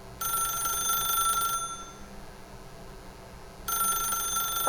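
In the video game The Stanley Parable, a telephone rings in two bursts separated by a pause, bright and clear over a quiet room.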